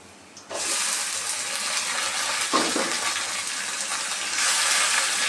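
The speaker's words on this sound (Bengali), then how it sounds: "এখন এর মধ্যে আমি শাকগুলো দিয়ে দেবো" Malabar spinach greens hit a pan of frying onions, setting off a sudden loud, steady sizzle that fills the rest of the moment and flares slightly midway.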